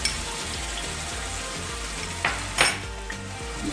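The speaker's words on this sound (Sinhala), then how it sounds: "තෙල් ටික රත් වුණාම ඉඟුරු සුදුලුණු පේස්ට් එක එකතු කරනවා." Ginger garlic paste frying in hot oil for Peshawari chicken, a steady close sizzle with a few sharper bursts of spatter and stirring near the end, with no voices.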